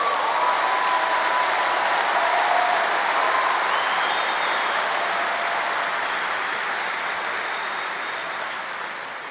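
A church congregation applauds in a continuous, dense roar of clapping that holds loud and steady, then fades slightly near the end.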